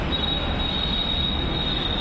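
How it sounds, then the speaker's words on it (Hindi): Delhi Metro train pulling out of a station platform, a steady loud rumble with a sustained high whine running throughout, no talk. "चलो जी हमारी एक तो मेट्रो छूट गई भाई"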